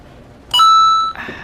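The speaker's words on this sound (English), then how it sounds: "Now you're gonna hear my phone binging for every single thing that we pay." A phone chimes a single bright electronic notification beep for a bill payment, loud and close, a sustained tone about half a second long with a brief lower tail.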